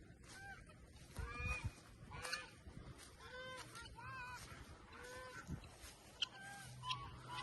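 Several geese honk in repeated short bursts at moderate distance, set against a steady outdoor background with faint human voices now and then.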